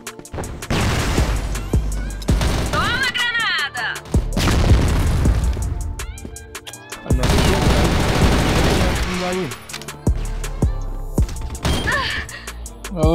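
Grenade blasts and bursts of automatic gunfire from the online shooter CrossFire, loud and continuous, with repeated booms and rapid weapon fire layered over game music and effects, while a player calls out briefly.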